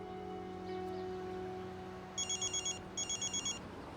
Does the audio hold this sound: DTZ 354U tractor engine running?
no